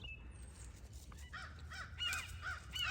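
Several crows caw repeatedly at a distance, harsh calls overlapping with other birds chirping against a low background hum.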